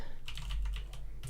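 Light, quick keystrokes on a computer keyboard while writing C++ code, a short run of soft, uneven clicks close to the microphone over a low hum.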